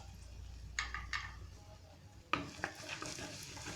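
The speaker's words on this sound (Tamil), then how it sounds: "லைட்டாக ஃப்ரை ஆகட்டும்" Red chilli powder and garam masala lightly frying in a pan for peas masala, a low sizzle broken by a few spatula taps and scrapes against the pan, quiet and close.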